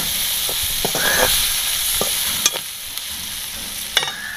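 Onions fry with pounded garlic chili paste in a pan, giving a close, continuous sizzle. Sharp taps and scrapes of stirring sound at irregular intervals, with no talking.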